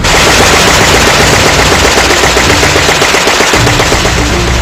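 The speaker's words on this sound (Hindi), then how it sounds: "देखिए जमीन पर खड़ा F-35 कैसे अंधाधुंध गोलियां दागता है।" Rapid automatic cannon fire from a grounded F-35 fighter jet rattles continuously and very loud, a fast unbroken stream of shots with no pauses.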